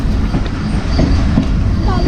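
The 12DN Hazara Express pulls into Bahawalpur railway station with a close, continuous rumble and rhythmic clatter of carriages rolling over the rails.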